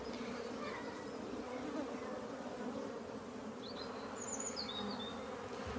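Honey bees buzz around a hive as foragers bring in pollen, a steady dense drone of many insects close by, with a few brief higher passes of individual bees flying near.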